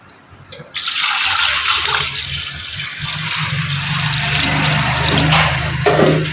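Water pours steadily onto mutton in a metal pressure cooker, a continuous splashing rush that starts abruptly after a brief quiet moment and keeps going at an even level.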